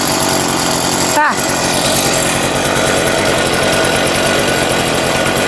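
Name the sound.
Wild Badger 53cc garden tiller engine running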